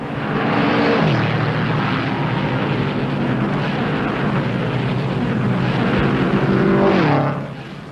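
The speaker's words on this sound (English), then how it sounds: "other Watson-built machines are running wheel to wheel at better than 144 miles an hour" Watson-built race cars roar past together at over 144 mph at the 1959 Indianapolis 500, a loud, continuous engine drone that swells and fades slightly as the pack passes.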